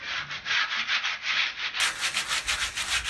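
Hand sanding wood on a mirror frame being upcycled, with quick rhythmic back-and-forth rasping strokes, close and fairly loud, about a dozen strokes with no voices.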